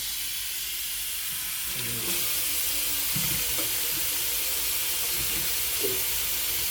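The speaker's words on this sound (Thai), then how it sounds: "เครื่องทำโซดาสวีเดน" A Swedish home soda maker carbonating chilled plain water gives a steady, fairly loud hiss of gas that rises slightly about two seconds in and then holds, with a few faint knocks and clicks under it.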